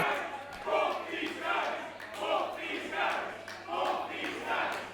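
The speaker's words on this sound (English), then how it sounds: "Crowd showing appreciation for both the champion and his would-be challenger" Wrestling crowd at an ICW Gonzo show cheering for the champion and his challenger, a swelling and ebbing roar of voices in repeated waves, with a steady low hum beneath.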